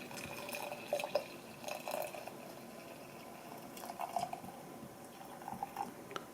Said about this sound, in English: I'm going to try and pour in some hotter water.